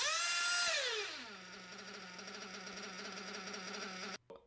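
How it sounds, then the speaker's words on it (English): Nitro model engine with a lean high-speed carburetor needle screams at high revs, then drops to a steady, buzzing high idle that holds until it cuts off abruptly near the end; loud and close, no talk. "now I'm going to show you what happens with a lean high-speed needle"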